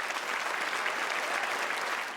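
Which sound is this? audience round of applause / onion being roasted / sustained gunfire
audience round of applause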